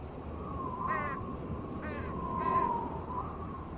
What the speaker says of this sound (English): I hear the bird, but I don't see it.